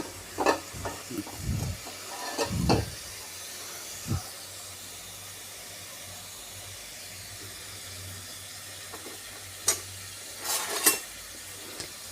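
Bitter gourd pieces hit hot oil in loud hissing, spattering bursts early on, then settle into a faint steady sizzle before a few more sharp crackles near the end.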